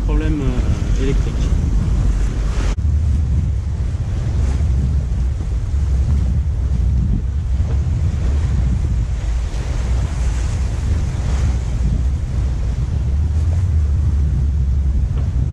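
A Figaro sailboat runs fast off Royan, with loud continuous wind buffeting the microphone and the rushing wash of waves against the hull throughout.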